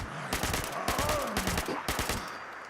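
Fallout 76 Perfect Storm 10mm SMG fitted with a stabilized stock and short barrel, loud close bursts of rapid automatic fire in a few quick strings with brief gaps.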